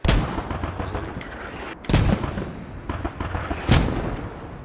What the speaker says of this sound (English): Mortars coming in now, directly landing on the hemp fields of Hemp Farm.